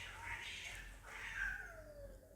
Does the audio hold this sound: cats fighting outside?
yes